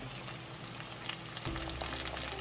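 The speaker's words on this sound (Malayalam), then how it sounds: "ഒന്ന് മൂത്തതിന് ശേഷം കറിവേപ്പില ആഡ് ചെയ്യുന്നു" Curry leaves hitting hot oil with asafoetida while tempering for Kerala lemon pickle, a steady close frying hiss that swells into a louder, fuller sizzle midway as the leaves go in, with no voices.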